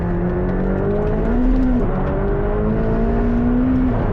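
A McLaren 720S supercar accelerates hard with some wheelspin, its engine roaring loud and close as the pitch climbs steadily through the gears with no voices over it.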